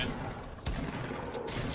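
Shotgun fire in the video game Fortnite, a sharp blast cutting through dense in-game noise and gunfire, with voices talking alongside.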